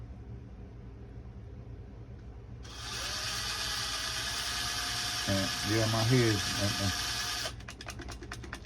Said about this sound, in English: my drill's going